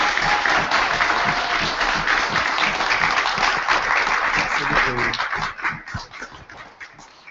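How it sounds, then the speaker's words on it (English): A university crowd at a 2014 presidential debate and meet-the-candidates night applauds the candidates. Loud, continuous clapping is mixed with a few whoops and cheers, then fades out over the last two seconds. "A round of applause."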